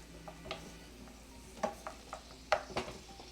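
Vegetables starting to fry in butter and oil in a pan, a faint sizzle under scattered clinks and scrapes of a wooden spoon against the cookware.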